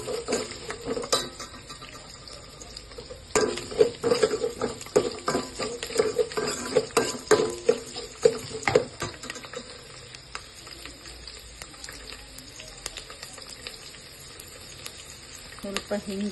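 Dried chilies, curry leaves and garlic frying in hot oil for a Tamil Nadu-style brinjal vatta kuzhambu, a steady close sizzle with scattered clinks and scrapes of a spoon against the pan.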